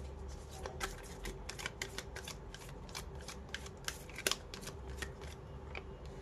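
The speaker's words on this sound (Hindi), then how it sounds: "Please give me two cards, Archangel Michael" Tarot cards shuffled and drawn by hand, giving a string of quick papery snaps and riffles at close range, quiet and steady with a few sharper flicks and no talking.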